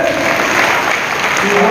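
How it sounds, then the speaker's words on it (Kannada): A crowd claps loudly and densely at a large Congress party rally in Hosapete, Vijayanagara district, producing a continuous rush of applause that fills the whole short stretch. "ಒಂದು ಜೋರ ಚಪ್ಪಾಳೆ ಬರ್ತೀರಲ್ಲ"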